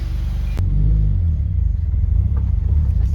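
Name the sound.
Subaru WRX FA20DIT engine running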